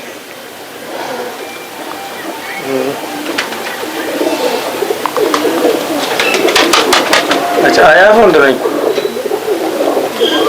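Pigeons coo softly and repeatedly nearby while people talk over them, with some background clatter.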